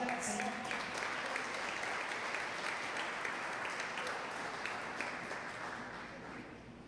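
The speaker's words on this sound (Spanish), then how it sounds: "Aplaudan al Señor." A church congregation applauds during a sermon, a steady dense wash of clapping from a crowd that fills the room and slowly fades toward the end.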